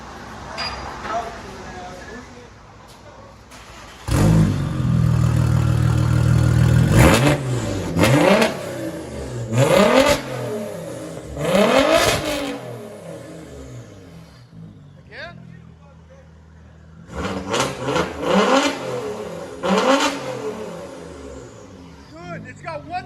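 A 2001 Audi S4 with straight-pipe exhaust revving, loud and close: repeated sharp throttle blips rising and falling over a rough idle, with a quieter lull midway before more revs.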